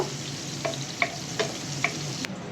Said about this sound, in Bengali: তেল দিয়ে দিয়েছি, পেঁয়াজ কুচি দিয়ে দিচ্ছি। পেঁয়াজটা হালকা ভেজে নেব।